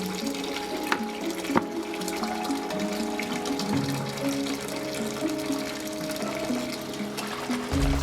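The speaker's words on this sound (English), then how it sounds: "the parts were dunked into the kitchen sink and scrubbed with warm soapy water and a soft toothbrush" Water runs and splashes in a kitchen sink as plastic model kit parts for a 1/12 scale astronaut are dunked and scrubbed in warm soapy water, a steady stream with occasional knocks and clinks, no voices.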